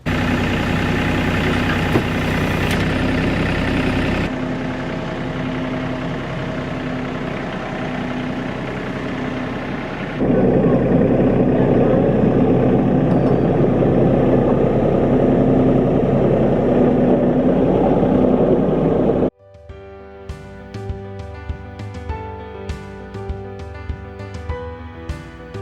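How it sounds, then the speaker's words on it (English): A tractor engine runs steadily while moving around a dairy barn build site where roof trusses are being raised, its loud drone shifting in level partway through before cutting to quieter clattering sounds near the end. "We're going to move the tractor around here and pick up the first one."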